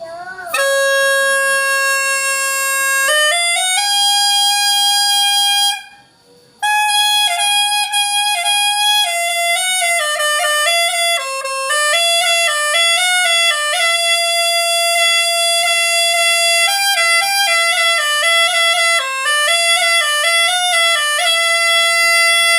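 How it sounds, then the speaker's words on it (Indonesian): A bright reedy Minangkabau pupuik sarunai, a bamboo wind instrument without a horn bell, plays a continuous melody, loud and close, with a brief pause early on before the tune resumes and carries on steadily. "Ini adalah salah satu alat tiup tradisional Minangkabau yang terbuat dari bambu yang sudah matang dan dikeringkan"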